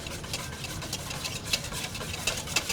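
Hot milk being stirred into eggs for a flan gives a soft, continuous swishing with occasional light clinks of utensil against the bowl, quiet and close with no talking.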